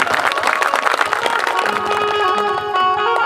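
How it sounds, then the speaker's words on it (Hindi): A crowd at a Mahashivratri gathering applauds and cheers for a woman who offered a coconut, a loud, dense burst of clapping that fades into music. "इनके लिए तालियां बजा देंगे"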